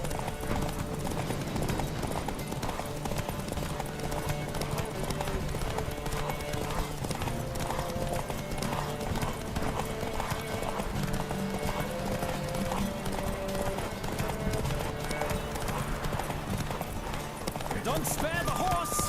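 Galloping horse in a Witcher 3 horse race, with rapid rhythmic hoofbeats running steadily throughout, alongside game music and shouting voices.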